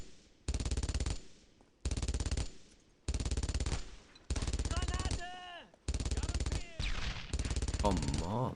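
An MG42 machine gun in the World War II shooter Brothers in Arms: Road to Hill 30, loud rapid bursts of about a second each, separated by short pauses, with shouting voices over the later bursts.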